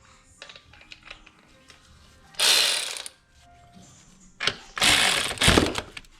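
Ratchet clicks while loosening nuts on a GM 3800 alternator: scattered light clicks at first, then several loud, fast bursts of ratcheting up close, with no talking.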